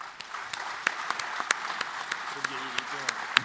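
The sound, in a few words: audience applause at a political debate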